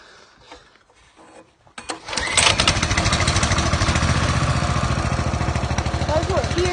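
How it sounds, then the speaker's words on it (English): A small Coleman mini bike engine sputters to life on a cold day after a couple of pulls, then settles into a loud, steady, buzzing idle close by, with faint talk before it starts. "and here I'll start it up"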